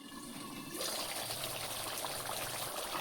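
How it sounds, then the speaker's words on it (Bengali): Water pours into a pan of fried fish curry with potatoes, a steady hissing gush starting abruptly and running continuously close by. "সামান্য জল দিয়ে দিব, কেন মাছটা সিদ্ধ হবে।"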